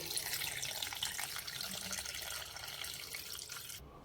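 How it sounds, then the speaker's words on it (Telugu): Water runs steadily into a container for soaking old oil lamps, a continuous close gushing stream that cuts off abruptly just before the end, with no talk. "ఇందులో ఇవి మునిగేంత వరకు వాటర్ ఫిల్ చేసి పెట్టుకోవాలి"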